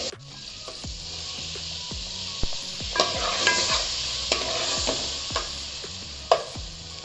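Butter sizzling as it melts in a hot, wide non-stick pan while cooking street-style pav bhaji, a steady crackling fry with clacks and scrapes of a stirring utensil against the pan.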